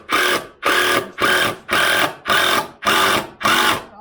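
A power drill whirs in seven short, evenly spaced bursts, each spinning up and cutting off as a screw is driven, close by with no talking.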